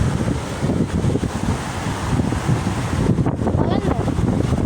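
A strong water current rushes in a dense, constant roar, loud and close, mixed with wind buffeting the microphone.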